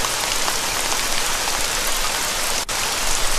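Rain falls in the Dora the Explorer: Click & Create PC game as a loud, continuous hiss of raindrops, steady from start to finish with one brief dip near the end.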